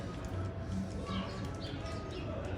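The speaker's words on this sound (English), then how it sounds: "You can hear a whole family of them chirping up there." A family of birds calling from up above, soft cooing and faint chirps repeating over low background noise, heard at a modest distance.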